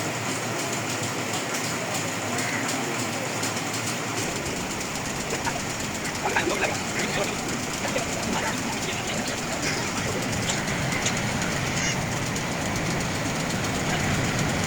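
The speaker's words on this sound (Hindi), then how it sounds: "गुजरात से चल पड़ी है हमारी ट्रेन 35 अफसर सैयद एक्सप्रेस रावलपिंडी के लिए" Sir Syed Express passenger train of Pakistan Railways running from Gujrat toward Rawalpindi in the rain, a steady loud rumble of wheels and carriage noise throughout, with faint clicking and some background voices.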